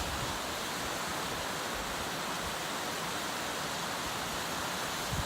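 A waterfall about 30 feet tall in the mountains near Durango produces a continuous, even hiss of falling water, steady and moderately loud with no other sounds.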